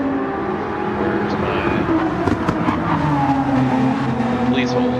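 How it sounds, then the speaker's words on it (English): Race car engine in a sim racing stream of the Spa 24 Hours endurance race, droning steadily with shifting pitch, loud and continuous throughout, with faint tire squeal. "The sound of the car is too high."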